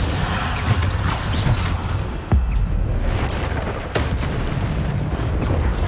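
Repeated Bombarda spell blasts in the Hogwarts Legacy video game, loud booming bursts at about 2.3 and 4 seconds over a dense, continuous rumble of game combat.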